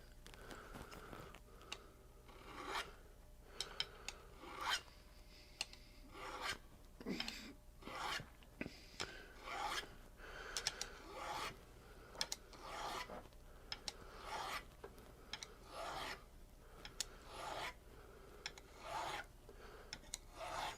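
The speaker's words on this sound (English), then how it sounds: "I'm just going to get my Fret Guru fret end file and just nip off the corners." Fret end file rasping the corners of the frets on an Ibanez RG4EX1 electric guitar, a series of short, quiet scraping strokes in uneven rhythm, close up and faint.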